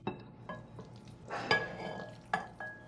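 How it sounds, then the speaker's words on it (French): Meat being spread over fried potatoes in a dish, with a few scraping, stirring clatters of a utensil against the dish and a soft sizzle underneath, no talking. "Maintenant, je vais mettre la viande par-dessus les pommes de terre. Je vais répartir cette viande."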